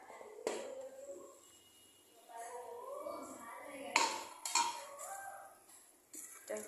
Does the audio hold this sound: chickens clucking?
no